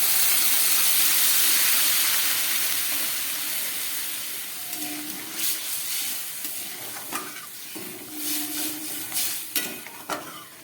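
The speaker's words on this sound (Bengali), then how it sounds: "এবার দিয়ে দিচ্ছি জল।" Water poured into a pan of frying spiced lentil fritter curry with potatoes sets off a loud, steady sizzle and steamy hiss that slowly eases, followed by stirring scrapes and bubbling.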